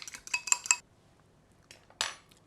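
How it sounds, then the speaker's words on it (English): A whisk clatters against a bowl while sesame dressing is mixed, with a quick run of metallic clinking strokes, a pause, then a shorter burst of clinks. "I'm just gonna whisk this to recombine it"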